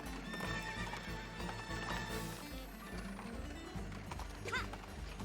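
A horse in the video game Princess Peach Showtime gallops with quick, steady hoofbeats over game music and lets out a high whinny near the end.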